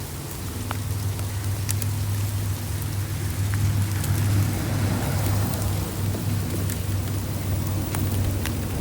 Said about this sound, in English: I don't know where the rain is coming from, to be honest.